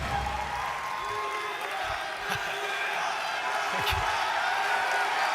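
A large conference crowd at Sony's E3 2016 show roars and cheers, a dense, steady wall of voices sustained throughout, loud and close, with chanting of a name blending into the din.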